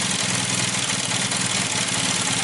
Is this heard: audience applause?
no